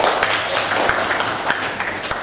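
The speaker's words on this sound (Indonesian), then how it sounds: "oke, tepuk tangan buat kita." Classroom of students clapping hands together, dense, continuous patter of many claps at close range, moderately loud and brief.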